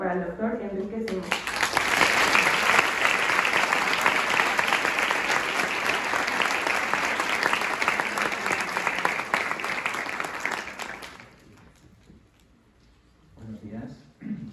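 A conference audience gives a speaker loud, sustained applause lasting about ten seconds before it fades, with a voice heard briefly before the clapping and again after it dies down.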